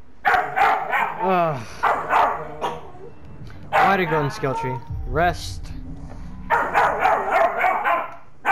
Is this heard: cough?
no